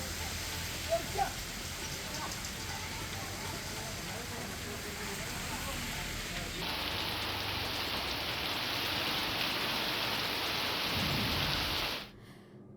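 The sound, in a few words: rain falling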